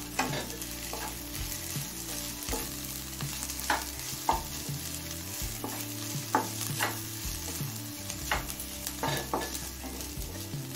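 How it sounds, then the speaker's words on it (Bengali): Whole garam masala of cardamom, cloves and cinnamon frying with onions in a pan for vegetable egg pulao, a loud, steady sizzle broken by repeated scraping stir strokes at an irregular rhythm. "গোটা গরম মশলাটা দিয়ে আরো মিনিট খানেক ভেজে নিলাম"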